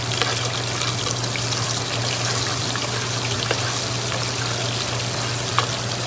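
Onions sizzle steadily in a pot for ayamase stew, a dense, constant frying hiss with faint crackles and a low hum underneath, close and fairly loud with no talking.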